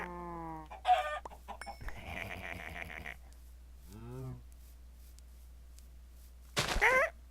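Minecraft chickens in the Feed the Beast Magic World modpack cluck and squawk in a few short, close bursts between quiet gaps.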